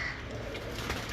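Breeder pigeons cooing softly in a loft, a low continuous murmur for a moment with no one speaking.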